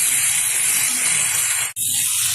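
Shrimp stir-frying in a pan with Malabar spinach, pumpkin, potato, eggplant and jackfruit seeds: a loud, continuous steamy hiss close by, cut by one brief dropout near the end before the hiss resumes.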